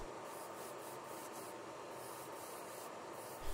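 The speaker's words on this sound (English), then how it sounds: "Here I'm using Tamiya Semi-Gloss Black, straight out of the jar into my airbrush" Airbrush spraying Tamiya semi-gloss black paint straight from the jar onto diecast parts of a Matchbox Lesney #46 Pickfords removal van under restoration, a steady, even hiss that runs unbroken throughout, close and alone with no talking.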